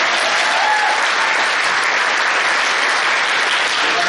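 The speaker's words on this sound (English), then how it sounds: "a round of applause" An audience gives a round of applause at a Cal Poly Maritime event, a loud, dense and steady wash of clapping that carries on without a break.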